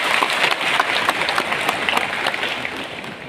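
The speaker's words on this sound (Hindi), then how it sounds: "आप जोरदार तालियों से स्वागत करो।" Loud, dense applause from an audience welcoming grassroots activists at a tribal rights rally in India, sustained clapping throughout with crowd noise and no pauses.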